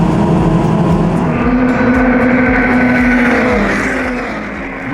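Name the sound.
Formula Ford 1600 race cars revving at the race start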